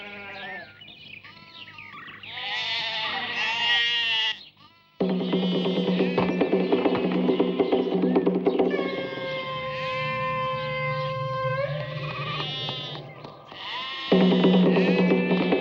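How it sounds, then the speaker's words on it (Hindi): Goats bleating in a village, in an action-film scene with music and a siren-like tone; repeated wavering bleats ring out loudly and close, layered over a sustained musical backdrop. "हमारी गांव की बकरियों को कहाँ पकड़ कर ले जा रहे हो?"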